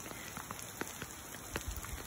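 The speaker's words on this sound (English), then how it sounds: "This rain is amazing." Steady rain falls among live oaks, a soft continuous patter on leaves and ground with occasional louder drops, fairly quiet and close, with no voices.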